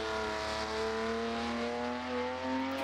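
Race car engine from the Assetto Corsa driving game holds a steady, fairly quiet high-revving drone with a slow rising pitch, heard alone with no talking.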